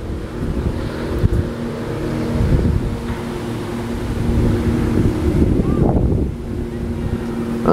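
Low rumbling motor drone of boats on water mixed with wind buffeting the microphone, continuous and fairly loud throughout.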